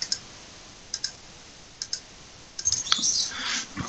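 A computer mouse gives a few sharp, isolated clicks spaced across the first seconds, close and distinct, followed by a denser cluster of quick clicks and clatter near the end.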